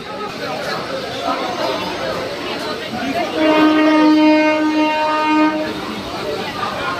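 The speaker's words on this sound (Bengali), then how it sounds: "আমাদের ট্রেন প্রথম হল্টে ঢুকে পড়েছে বর্ধমান জংশনে।" The Kulik Express rumbles into Bardhaman Junction with a long horn blast sounding midway, while passengers chatter and talk around it.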